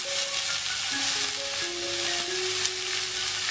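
Three chopped onions fry in a pan for aval upma, giving a loud, continuous close sizzle with a few faint tonal notes in the background.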